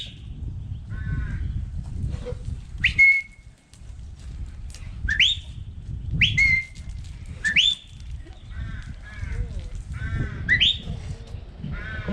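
Sharp shepherd's whistle commands directing an Irish sheepdog herding sheep in a field, several rising and falling whistles spaced a second or two apart over low wind rumble, with faint bleats and calls between them.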